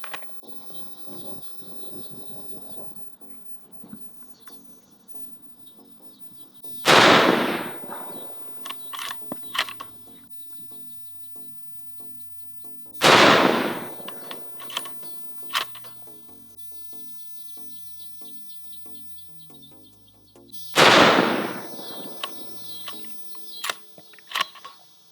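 Three loud, sharp rifle shots from a Savage Axis XP II in 6.5 Creedmoor, spaced several seconds apart at a range, each followed by a brief echoing tail and small clicks of the action between shots.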